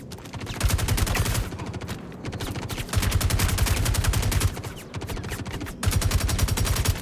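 Automatic gunfire in the Star Citizen video game is aimed at an Ursa rover, coming in three long, loud rapid bursts separated by short pauses, with no talking.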